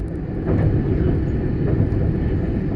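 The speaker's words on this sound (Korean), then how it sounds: "연결되어 달리던 선라이즈 이즈모와 선라이즈 세토가 분리하는 모습을 볼 수 있다" Sunrise Izumo and Sunrise Seto sleeper trains separating at a station, heard as a steady, loud low rumble of idling rolling stock and machinery, with faint distant murmurs from onlookers gathered on the platform.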